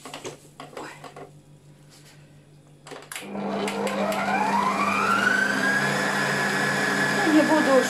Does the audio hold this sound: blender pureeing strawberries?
yes